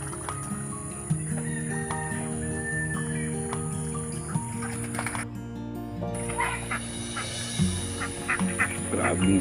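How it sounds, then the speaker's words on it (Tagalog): Domestic ducks and ducklings kept in a yard call continuously, a busy mix of honking quacks and higher peeps overlapping at close range against a steady background hum. "Grabe saya-saya ng mga itik ko."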